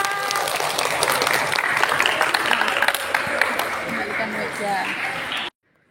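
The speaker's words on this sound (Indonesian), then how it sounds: "Tepuk tangan." Classroom of students clapping after an Indonesian poetry-reading lesson, a loud, busy burst of applause with voices mixed in that carries on for several seconds before cutting off abruptly.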